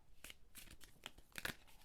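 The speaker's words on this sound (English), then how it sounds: "Wow, the shuffling today." Tarot cards are shuffled in quick riffling bursts, crisp papery flutters repeating several times, close by and fairly soft.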